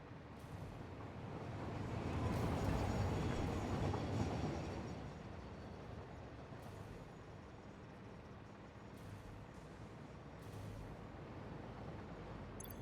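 A train in the factory-building game Satisfactory rumbles steadily, swelling louder as it passes and then holding a continuous clattering run with faint clicks.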